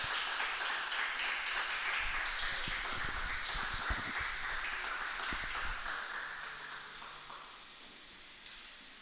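A church congregation applauds in a sustained wash of clapping that fills the room, with a few louder claps in the middle before the sound gradually fades toward the end.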